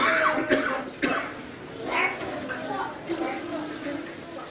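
A voice imitates a big drinking cat, producing a few short gurgling, meow-like bursts near the mic, with a livelier crowd-like background at a children's Seuss festival event.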